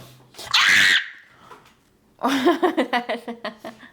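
A person lets out a loud, piercing scream lasting about half a second, followed after a pause by a burst of rhythmic, pulsing laughter up close.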